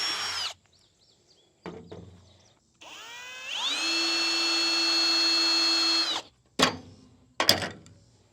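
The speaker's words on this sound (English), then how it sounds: "I got to drill a hole right there." A power drill whirs steadily for about three seconds, drilling a bolt hole while making bush hog shoes, ramping up and holding a high whine, with a few short bursts and knocks before and after.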